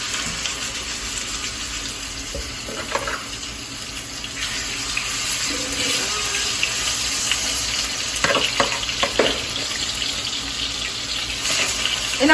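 Pork chops fry in a pan with a continuous close, hissy sizzle, broken by a few brief clatters and scrapes, with no talking.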